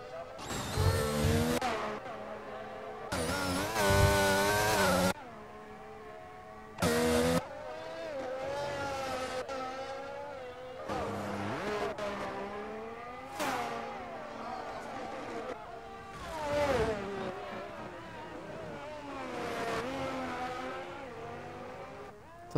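Formula 1 race car lapping the Azerbaijan circuit in F1 22, its high-pitched engine climbing and dropping through gear changes, with sharp louder bursts near the start and commentary voices over it.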